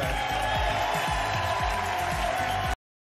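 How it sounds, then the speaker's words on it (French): Dense, continuous studio-audience applause for the winner of The Floor game show, a thick wash of many hands at full level with faint low thumps, cutting off abruptly near the end. "Tonnerre d'applaudissements pour Angélique."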